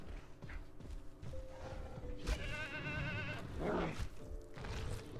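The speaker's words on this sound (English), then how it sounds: "The way the goat screams at it." A goat bleats and screams in the video game Jurassic World Evolution 2, a strained, wavering cry of about a second rising above a busy game soundscape of thuds and ambience.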